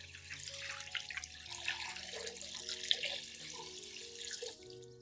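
Water runs steadily from a tap into a vessel, a continuous splashing, bubbling pour of about 1 liter to dilute a garlic solution, lasting throughout at close range.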